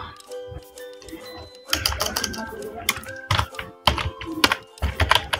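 Typing on a computer keyboard during a PowerPoint tutorial, with irregular close, crisp key clicks coming in bursts and short pauses, plus a faint voice in the background.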